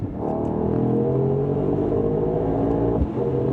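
A 2024 Mercedes-AMG GT 63 coupe engine revs steadily and loudly toward the red line, with a dip and quick recovery near the end marking a snappy paddle shift, heard from the cabin with no voices.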